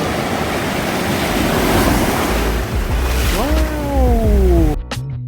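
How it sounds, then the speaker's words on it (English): Ocean waves surging at Diamond Beach on Nusa Penida, a broad, loud wash of surf with heavy wind buffeting the microphone throughout, briefly cut at the end. "look at these waves"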